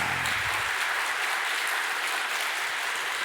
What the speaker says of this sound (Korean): 마음 담고 우리 힘차게 박수합니다.